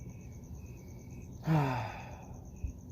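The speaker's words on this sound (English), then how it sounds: "You have the cricket sounds and everything?" Crickets chirp at night near an outdoor guinea pig coop, a faint, steady pulsed trill in the background, briefly interrupted midway by a soft breathy sigh-like sound.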